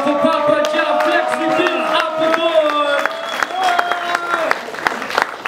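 A crowd at a beatbattle claps and cheers loudly for the winner, Pappa Jah, with whoops and shouts rising over steady applause throughout, close and full.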